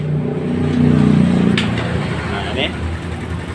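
A motorcycle engine started and kept idling with no battery fitted, its steady low rumble running throughout beneath close conversation.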